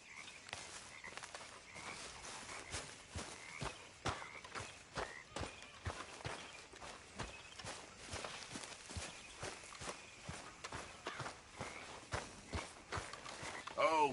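A horse's hooves clip-clop in a video game, a steady run of evenly spaced, fairly faint thuds that goes on throughout, with a short sound at the very end.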